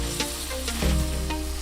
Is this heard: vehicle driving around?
no